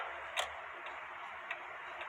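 Slow, regular ticking from a wall clock, the strokes sharp and close, with a soft hum of room noise underneath.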